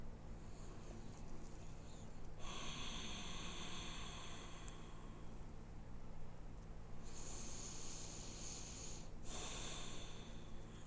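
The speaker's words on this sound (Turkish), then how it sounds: "Nefes alıp nefes ver burundan." Slow breathing in and out through the nose during a morning yoga session, soft close airy inhales and exhales in long alternating waves over a faint steady hum, with no talk.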